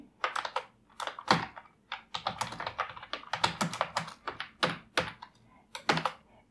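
Someone types JavaScript code on a computer keyboard, producing close, crisp clicking keystrokes in quick irregular bursts separated by short pauses, with no talking over them.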